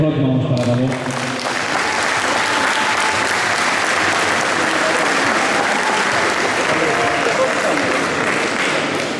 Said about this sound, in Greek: Ένα χειροκρότημα όμως παρακαλώ.